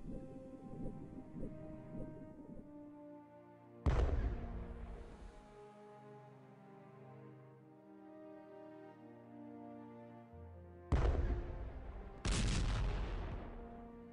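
Deep booming blasts of cannon fire from the strategy game Strategic Command WW1, three or four heavy shots with long rumbling decay, over a droning musical background.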